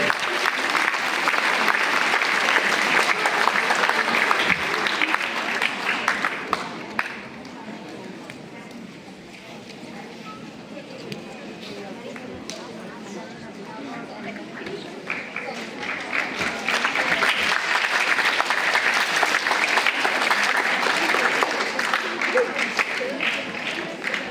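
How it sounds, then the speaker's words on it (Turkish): Loud, dense applause from an audience at a jubilee celebration fills the room, easing off into a quieter stretch midway before swelling again to full strength near the end, with voices mixed in. "Alkışlarınızla Etibar Guriyev."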